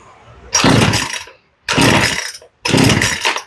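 A Poulan Pro chainsaw, its carburetor just adjusted, bursts into a loud, close roar three times in quick succession, each rev lasting about a second with short gaps between.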